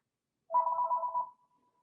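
A mobile phone rings once in a quiet room, a short buzzy electronic trill lasting under a second, clear and close with nothing else audible.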